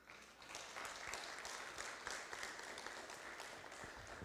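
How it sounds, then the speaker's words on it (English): Soft, steady applause ripples through the audience at a Fresno city council meeting, many hands clapping at a distance for several seconds. "We can give her a round of applause."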